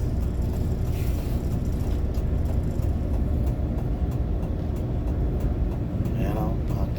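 Road traffic heard from inside a vehicle on the Gumaca bypass to Pasay and Cubao, a continuous low engine and tyre rumble with a passing vehicle swelling near the start, and someone speaking over it.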